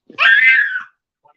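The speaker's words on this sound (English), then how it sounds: "Sorry about the screaming" A young child lets out a single sharp, high-pitched scream lasting under a second, loud and close, then stops abruptly.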